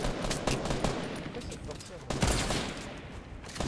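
Gunfire in the battle royale game Fortnite crackles in scattered bursts of rapid shots at moderate distance, with a few louder close cracks and talking mixed in.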